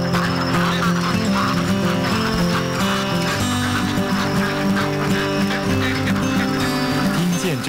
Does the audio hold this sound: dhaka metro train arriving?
no